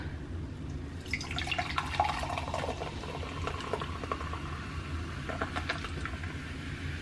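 Limoncello-flavored LaCroix sparkling water being poured into a glass, with a steady liquid trickle and fizzing bubbles over constant low background hum, brief clinks and splashes through the pour.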